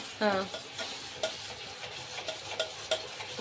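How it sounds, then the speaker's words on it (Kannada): Masala with tomato fries in a pan while a spoon stirs it, producing soft sizzling under sharp scraping clicks that repeat at irregular intervals, close and fairly quiet. "ಮತ್ತ ಇಷ್ಟ ಚಂದ ಹದ ಆಗತ್ತಾನ ಫ್ರೈ ಮಾಡ್ಬೇಕಣ್ಣೆ"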